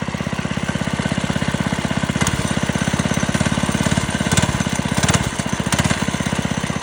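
A Doodle Bug mini bike's small engine runs at a fast, steady putter, the revs rising and dipping briefly a few times; it is close and fairly loud, with no talking.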